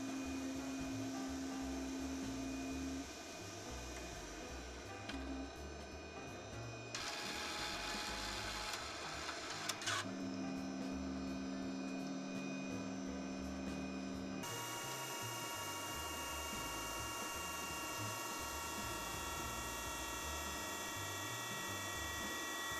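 A tape drive in a homelab runs a loading, writing and unloading cycle, giving off steady mechanical whirring with shifting motor tones, clicks and ratcheting bursts, close and alone.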